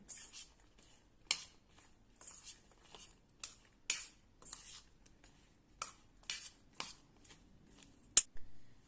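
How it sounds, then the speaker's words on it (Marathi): Green chillies mixed by hand with curd give soft, wet squelches and rustles in short irregular bursts, close and fairly quiet, separated by brief pauses, with no voices. "छानपैकी हाताने मी सर्व मिक्स करून घेते"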